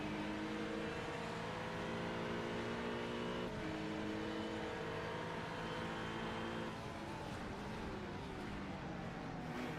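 A GT3 race car engine drones loud and steady down the back straight at Belle Isle in a racing sim, its harmonic pitch holding and then shifting slightly as it gears through, with no voice over it.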